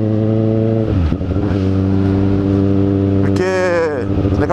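A motorcycle engine from a Honda Hornet and Yamaha XJ6 pair idles with a steady throb close by, then blips into a sharp rev near the end before settling; voices are faintly present.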